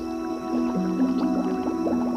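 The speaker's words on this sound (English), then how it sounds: "In summer, bubbling gases are like the heartbeat of Okefenokee" Gas bubbles up from decomposing peat beneath dark swamp water in the Okefenokee in summer, a close run of gurgling, bubbling pops with rising, watery tones over a couple of seconds.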